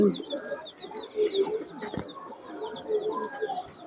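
Teddy pigeon chicks coo and chirp in a rapid, faint chattering series while an adult pigeon's low coos and a voice mix in nearby.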